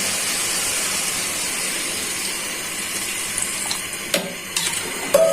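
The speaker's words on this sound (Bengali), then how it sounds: "টমেটোটা সাথে দিয়ে দিচ্ছি। দিয়ে দিচ্ছি জল।" Water gushes steadily into a pan of raw banana and tomato curry, a close hissing pour that runs continuously, then trails off with a few light clinks near the end.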